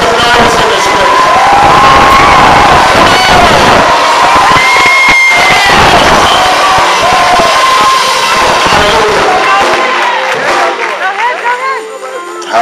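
A large church congregation cheering and shouting loudly and continuously, voices rising together in a sustained roar.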